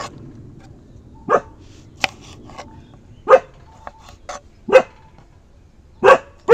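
Tommy, a pet dog, gives loud, close single barks spaced a second or two apart, with small clattering household noises between them.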